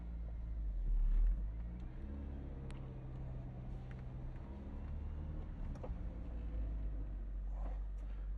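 A restored Toyota MR2 on a private race course gives a steady low engine rumble as it drives, with a brief louder surge near the start and a fairly even drone after that.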